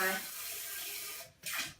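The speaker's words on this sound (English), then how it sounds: "If I'm spraying down, hopefully it'll flow down." A diaper sprayer sends water onto cloth diapers in a steady, loud hiss that stops briefly and then resumes.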